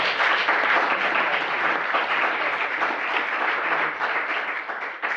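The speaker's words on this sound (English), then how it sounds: "Can we give them a round of applause?" Sustained audience applause at a town hall symposium, a dense, steady wash of many hands clapping that holds strongly for about five seconds before easing slightly at the end.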